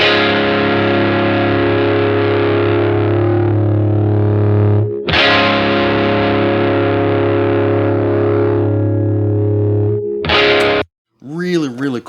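Re-amped electric guitar, with note dynamics turned down in Melodyne, sounds two long, loud distorted sustained notes back to back, then a short stab and a brief warbling, pitch-bending tail.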